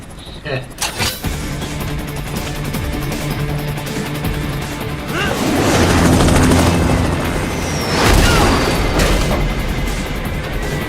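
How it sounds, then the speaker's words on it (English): A helicopter in the Metal Gear Rising Revengeance action game thrums continuously beneath loud explosions, crashes and bursts of combat noise, with voices talking over the rotor drone. "bring the chopper around"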